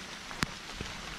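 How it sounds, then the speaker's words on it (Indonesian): Rain falls outdoors in thick fog, a steady soft hiss of drops on surfaces with a couple of brief, sharper drop taps standing out close by. "Harus cepet-cepet nih hujan."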